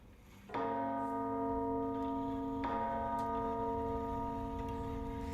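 A bell rings loudly twice, each strike a clear metallic tone with a long ringing sustain, the second coming about two seconds after the first, with no talk.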